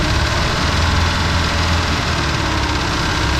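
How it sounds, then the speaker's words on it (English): Steady low engine idle from a Raven 195 boat, a continuous loud rumble with constant vibration and no speech over it. "the engine noise always sounds louder on camera."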